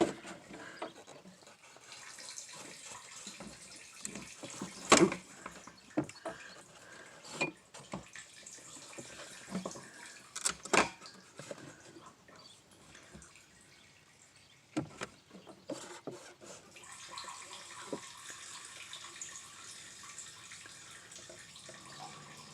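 Liquid trickles and splashes as fuel drains from a tipped 2002 Pontiac Bonneville fuel pump assembly, a faint steady pour with occasional louder clunks and drips nearby.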